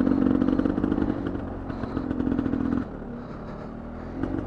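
A dirt motorcycle's engine idles low and steady, loud and close, easing off slightly partway through with a brief rise near the end.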